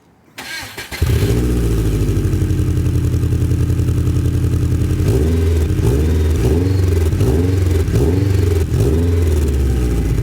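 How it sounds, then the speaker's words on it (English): Subaru WRX fitted with a Greddy catback exhaust starts up and settles into a steady, fairly quiet idle, with a few light revs rising and falling toward the end. "we have a Greddy catback exhaust."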